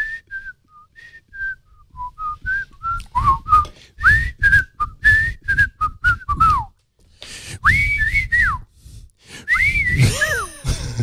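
A person whistles a melodic tune in short phrases with pauses, clear and close, with breaths between the runs.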